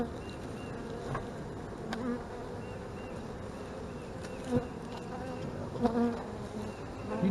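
Honey bees buzz at a hive entrance in a front yard, a dense, continuous drone from many insects close by, with a few individual bees swelling louder as they pass near.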